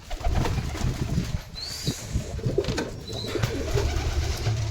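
Pigeons coo in a loft, low throaty rolling calls repeating close by amid shuffling and faint rustle, with a couple of brief higher chirps.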